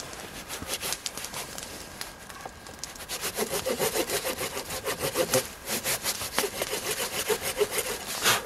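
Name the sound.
small hand saw cutting wood for a torch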